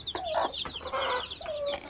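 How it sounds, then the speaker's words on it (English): Several chickens in a newly built chicken house cluck repeatedly in short, close bursts that overlap one another, loud and continuous across the moment with no talking. "Ah, so there are already new chicken here. Newly housed chicken."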